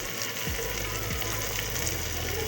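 Finely cut cabbage and French beans sizzle steadily in a pan with browned onions, a continuous close frying hiss with faint stirring scrapes.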